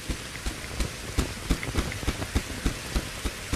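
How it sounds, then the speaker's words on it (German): Rain falling in the video game Reign of Kings, a steady hiss of rainfall with scattered sharp drop impacts throughout, fairly close and without talk. "Es regnet."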